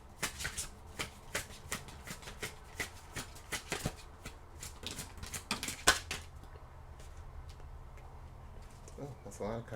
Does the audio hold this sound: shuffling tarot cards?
yes